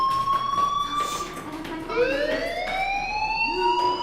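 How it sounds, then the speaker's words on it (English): A fire alarm sounds in the Life is Strange video game, a steady high electronic tone that then rises in repeated upward sweeps like a siren, loud and continuous over faint background noise. "do you hear that fire alarm? That means you should be outside."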